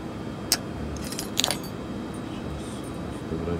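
A few light metallic clinks and jingles of a fork, knife and scissors knocking together, over a low background hum, aboard the International Space Station.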